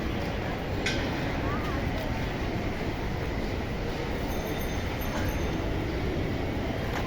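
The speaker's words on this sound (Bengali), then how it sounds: "কমলাপুর রেলওয়ে স্টেশন ঢাকা এটা মতিঝিলের পাশেই" Busy ambience at Kamalapur railway station in Dhaka, with a steady, fairly loud rumble of trains and station noise running through the whole stretch, and people talking faintly in the background.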